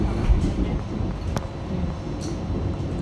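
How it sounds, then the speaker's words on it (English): An express suburban train runs from Melbourne's western suburbs toward the city without stopping, heard from inside as a steady low rumble with soft rattling and a couple of brief higher squeaks. "This was a good train to get."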